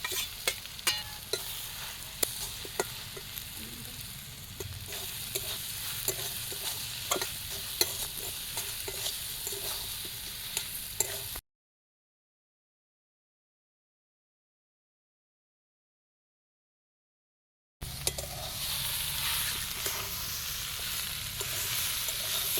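Soybean chunks being stir-fried with spices in a pan, a steady sizzle punctuated by frequent clicking scrapes of a spoon against the pan, close by; the sound cuts to silence for several seconds midway, then the sizzling and stirring resume.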